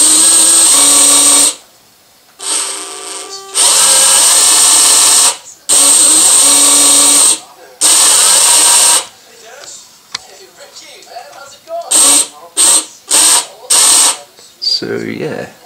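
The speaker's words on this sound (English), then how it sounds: "just loosening the screws on the back because it sounded like it was binding on something" A power tool whirs in repeated bursts, starting and stopping as it loosens screws on the back of a Huina 1580/580 robotic arm, close and loud with brief pauses between runs.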